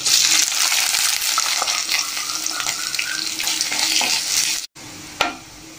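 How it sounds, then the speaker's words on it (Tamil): Chopped onions sauteing in a pan for a dry fish kootu, a loud close hiss of frying with busy stirring scrapes, then a sudden brief silence and a final clatter. "வெங்காயம் நல்லா வதங்கிருச்சு."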